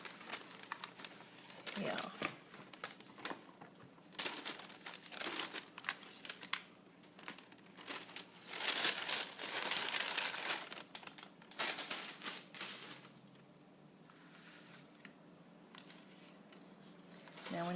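A small bag of craft supplies crinkles in bursts of rustling and handling, loud at moments and quiet between, with a brief spoken word among the noise.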